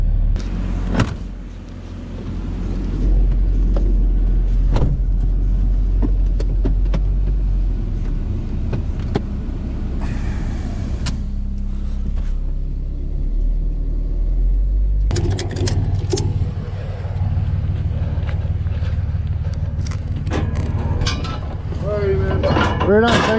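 An old, rusty truck drives along with a constant, close engine rumble and road noise. Brief mechanical clunks and rattles punctuate the drone, and a louder rattling stretch comes near the end.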